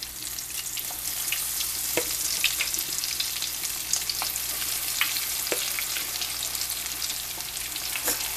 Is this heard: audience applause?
no